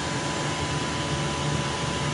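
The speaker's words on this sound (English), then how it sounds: "place the filter back in the box, and just start air hosing" Compressed air roars from a hose as it blows out a car air filter, a loud, steady broadband hiss held without a break.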